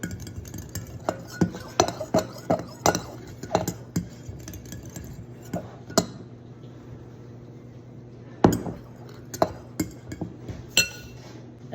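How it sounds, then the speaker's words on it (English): Whisk stirring half a teaspoon of salt into flour in a bowl for homemade egg noodles, a series of irregular close clinks and taps against the bowl with soft scraping between, in a quiet kitchen. "we're gonna whisk it together"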